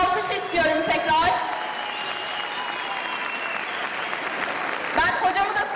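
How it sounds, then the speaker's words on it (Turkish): A big round of applause fills a Trabzon stage event after a knife horon folk dance, steady dense clapping from a crowd, with a voice speaking over it at the start and end. "Ve ona ben kocaman bir alkış istiyorum tekrar."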